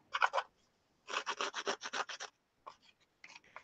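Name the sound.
sanding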